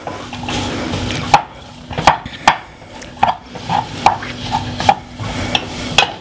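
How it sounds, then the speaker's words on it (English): A utensil stirs and scrapes through cheesy pasta with cream cheese in a pan, giving repeated close knocks and clinks at an uneven rhythm over a faint hum, with no talking. "Keep stirring so that the cream cheese doesn't melt."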